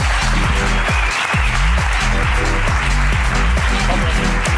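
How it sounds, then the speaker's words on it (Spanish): Studio audience applauding loudly and steadily throughout, a dense wash of clapping on a Spanish comedy podcast, with deep rhythmic music thumping underneath. "Aplauso para la ruina de Ulises"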